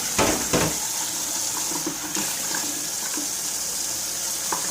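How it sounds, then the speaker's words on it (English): Tap water runs steadily into a sink as parts of an Omega VSJ843 vertical slow juicer are rinsed, with a few louder splashes and clatters near the start over a constant close rushing stream. "You can, of course, just rinse most of these things"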